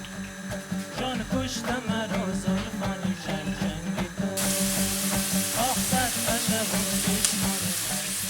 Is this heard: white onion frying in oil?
yes